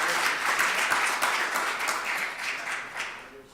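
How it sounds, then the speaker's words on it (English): A meet-up audience claps to welcome a speaker, brief steady applause at moderate volume that tapers off toward the end. "so round of applause for Ben"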